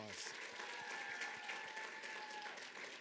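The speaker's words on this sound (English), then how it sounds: "Students, give them another round of applause." A large audience at a teacher education pinning ceremony keeps up a faint, steady roar of applause, a continuous wash of distant clapping and crowd noise, with a brief tone heard beneath it.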